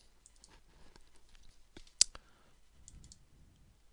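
A computer mouse clicks once sharply while reviewing items in the ARUtils performance checker, a single crisp click standing out against quiet room noise.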